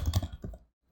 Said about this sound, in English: Typing this not from memory